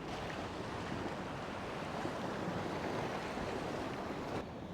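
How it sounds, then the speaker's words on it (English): Ocean waves break on an open Australian beach, a steady, loud wash of surf with wind noise across the microphone and no talking. "try and just cast out over the top of the waves"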